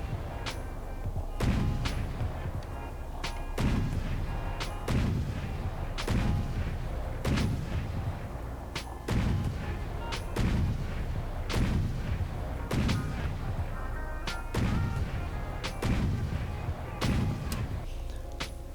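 Cannons in From The Depths fire advanced shells in a loud, regular series of booming blasts about a second or two apart. Each blast is a heavy low thump followed by a sharp crack and echoing rumble.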